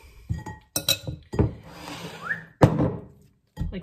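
A ball of pizza dough set into a bowl, with a few sharp glassy clinks and dull thunks close by amid brief kitchen handling sounds.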